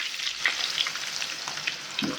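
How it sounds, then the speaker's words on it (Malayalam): Chopped large onions fry in coconut oil with a steady, fairly quiet sizzle, small pops crackling through it and a soft stir near the end, heard without talk. "ഇനി നമുക്ക് സവാള വറുത്തെടുക്കാം"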